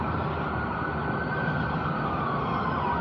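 An ambulance siren sounds steadily in the street, close and continuous, a wailing tone riding over broad traffic noise for the whole stretch, with no talk.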